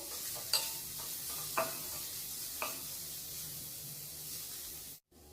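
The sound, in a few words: potato frying on low heat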